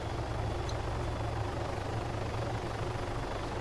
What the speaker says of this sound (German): Anderer Heli oben über uns.